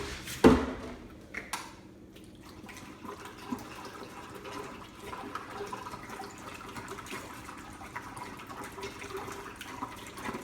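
Wort splashing and bubbling as it is poured and oxygenated during a partial-extract IPA home brew, a steady watery rush after a brief louder splash at the start, with no talking.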